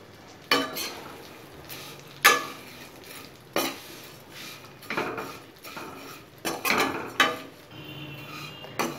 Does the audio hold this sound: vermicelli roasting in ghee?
yes